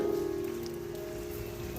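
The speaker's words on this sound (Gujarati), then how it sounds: "સરસ મજાનો વરસાદ પડે રહ્યો છે અત્યારે" Monsoon rain falls in a steady, even hiss while a low mechanical hum drones underneath, constant and without any talk.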